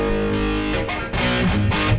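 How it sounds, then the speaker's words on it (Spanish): An electric guitar plays through a Jekyll & Hyde overdrive/distortion pedal, producing thick, saturated chords that are loud and sustained, with a few sharp re-strikes and no talking. "Entonces tenemos la distorsión."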